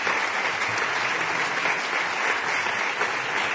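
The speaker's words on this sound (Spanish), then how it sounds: "para quien pido un aplauso" Sustained audience applause fills a hall during an arts and letters award ceremony in Spain, dense steady clapping from many hands throughout, loud and close with no talk over it.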